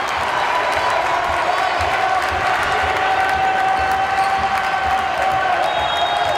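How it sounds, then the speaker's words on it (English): At a men's college volleyball match between Loras and Carthage, the fans cheer with a steady roar and the bench keeps up a run of clapping. The crowd noise fills the gym evenly from start to finish. "Carthage fans standing, bench clapping"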